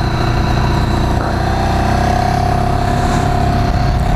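Ducati Streetfighter track bike engine with a deep, loud, steady rumble, close up and continuous, with a faint whine running over the throb.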